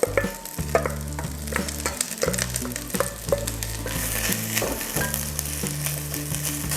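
Onions and capsicum fry in olive oil in a warm pan, giving a close, continuous sizzle broken by frequent utensil knocks and scrapes against the pan.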